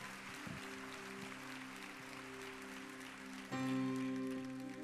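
A church congregation at a Baptist worship service claps together under sustained keyboard chords, a steady wash of applause that swells as the music grows louder near the end.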